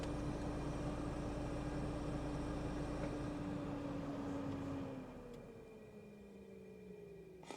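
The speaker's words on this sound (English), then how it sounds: "We've got a noisy fan on this car, haven't we?" A car's radiator cooling fan running hard in hot, humid weather gives a steady, close whirring roar with a faint tonal hum. About two thirds of the way through it drops to a softer level.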